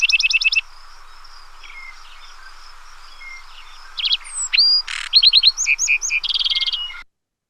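A lark sparrow sings a varied song of buzzy trills, clicks and sharp whistled notes in North American grassland, with a quiet pause in the middle before a busy burst of phrases.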